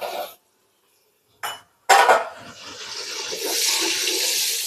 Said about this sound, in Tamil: இப்போ வெங்காயத்தை கிண்டி கொடுத்துக்கலாங்க.